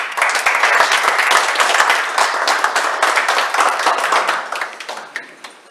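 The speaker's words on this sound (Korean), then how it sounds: "발제해 주신 박병규 교수님께 다시 한번 큰 박수 부탁드리겠습니다." Loud, dense audience clapping at a panel discussion in a conference hall, sustained for several seconds before thinning out near the end.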